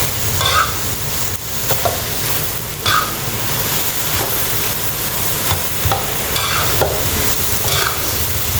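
Kan Jong vegetables with pork stir-frying in a pan, a steady loud sizzle and hiss with a few scraping stirs of the utensil against the pan.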